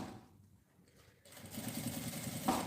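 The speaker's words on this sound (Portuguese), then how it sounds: "Com a dobrinha aberta, vou fazendo uma costura bem na beiradinha" Sewing machine stitching bias binding around the edge of a cylinder-shaped pouch, a steady whirring run that starts after a quiet pause and grows louder toward the end.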